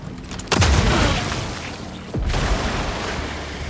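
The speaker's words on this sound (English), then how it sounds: "God, I love poison exploding enemies." Poison enemies burst in Mortal Shell 2 with two deep, loud booms about two seconds apart, each followed by a rumbling roar that lingers under a constant game soundscape.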